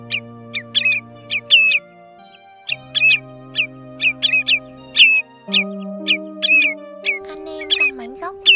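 Common and grey-tailed sandpiper calls sound as quick, high, piping chirps in clusters of two to four, repeating steadily and standing out clearly over sustained background music tones.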